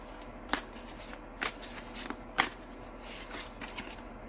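A Wandering Star Tarot deck is shuffled by hand, giving a series of quick riffling card bursts spaced about a second apart, close and fairly quiet with no talking.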